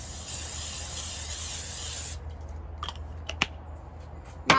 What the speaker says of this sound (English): spray the bottom with a non-stick cooking spray